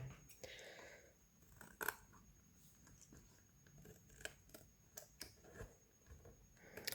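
Scissors trim paper for a decorated file folder, with a run of quiet, close snips and light ticking cuts spread over several seconds against a faint background.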